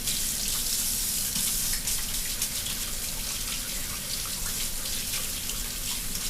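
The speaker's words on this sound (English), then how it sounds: "I'm just going to wash my hands real quick because I don't want that pepper on my hands." Hands are washed under a running kitchen tap, a steady, close hiss of flowing water splashing into a sink for several seconds without a break, with no talking.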